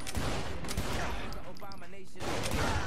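Dense, loud gunfire rattles in the video game Saints Row The Third, a near-continuous barrage of overlapping shots with a brief lull midway before the firing resumes.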